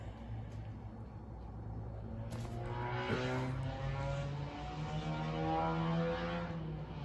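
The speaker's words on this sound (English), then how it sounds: "I apologize for the traffic outside of my window." Road traffic passes outside a window, a continuous low rumble with a rising engine drone from a passing vehicle, moderately faint and steady throughout.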